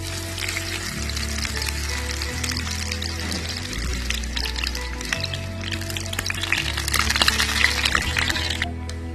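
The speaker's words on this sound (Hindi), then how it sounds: "इसको हम तकरीबन 1 मिनट तक फ्राई करेंगे।" Ring-cut onions fry in a pan for kadhi pakora, giving a steady broadband sizzle that lasts throughout, mixed with low background music.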